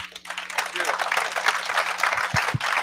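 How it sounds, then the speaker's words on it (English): Audience applause for a speaker at a HOPE for Prisoners night gathering, a steady dense wash of clapping lasting the whole moment, with a couple of low thumps near the end. "Can we give Robert another big, gigantic round of applause?"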